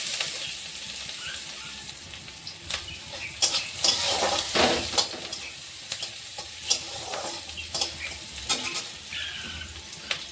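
Green chilies and chopped onion sizzle steadily in a pan, with repeated scraping stirs and small clinks of a utensil against the metal, close and continuous with no talking.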